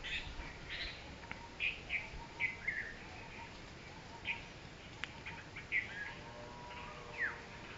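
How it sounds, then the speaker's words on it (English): Birds in a Kolkata bird sanctuary give short chirps and whistled calls, scattered and fairly faint against a quiet outdoor background, with a few calls close together and others spaced seconds apart. "If I stop talking, then you will hear some beautiful melancholy sound of birds."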